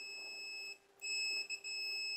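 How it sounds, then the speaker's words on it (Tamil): Electronic beeping from a water level controller circuit, a steady high-pitched tone that cuts out briefly and resumes, close and fairly quiet with no voices. "ரிலே சவுண்டும் கேட்டிருக்கோம், உங்களுக்கு பீப் சவுண்டும் வந்து கேட்டிருக்கும்."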